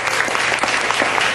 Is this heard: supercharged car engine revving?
no